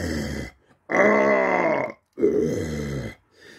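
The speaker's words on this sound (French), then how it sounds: "Tu poses des rots comme ça" Loud, close burps come in three long croaking bursts separated by brief silences, each one a deep, rattling belch.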